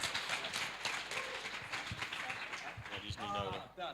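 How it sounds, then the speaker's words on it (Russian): Audience applause at a live event, a dense wash of clapping that persists throughout while voices talk and call out over it near the end. "High on Type, ваши аплодисменты"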